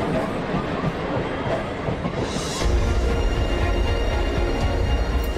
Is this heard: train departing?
yes